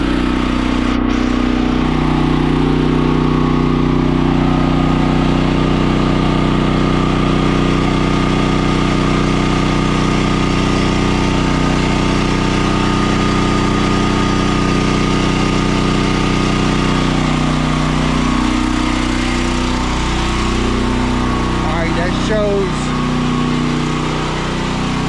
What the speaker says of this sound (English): that generator is kind of loud